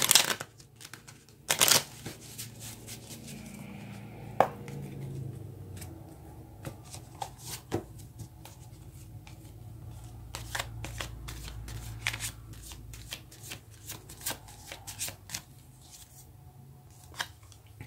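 Tarot cards shuffled by hand at close range, a long stretch of soft riffling and sliding with small snaps and taps, broken by a few sharper clacks near the start, with no talking.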